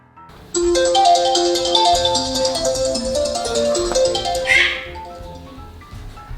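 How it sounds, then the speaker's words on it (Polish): A telephone rings for a mother's call in a Polish children's cartoon, a bright electronic melodic ringtone, loud and close, stopping after about four seconds. "Aż tu 5 grudnia zadzwonił telefon do mamy."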